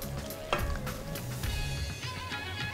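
Tomato going into a pot of simmering beans and being stirred, a steady sizzle and bubbling with a few soft spoon and pot knocks, close and continuous.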